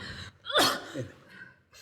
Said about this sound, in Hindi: सवेरे से छींके चली जा रही हो,